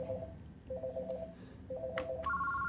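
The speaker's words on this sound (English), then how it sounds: "To change the ringtone on the phone, you can press Feature and then 3" Keypad button tones from an NEC SV9300 office phone: a few short, quiet electronic beeps in quick succession, close by, with no one talking.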